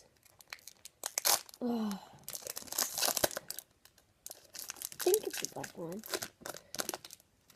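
A foil pack of AFL footy cards is torn and crinkled open in short, loud ripping bursts, and people talk between and over the rustling.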